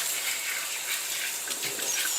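Steady running water rinsing a large 22-pound Maine Coon cat during a bath, a continuous close hiss of spray with no voices.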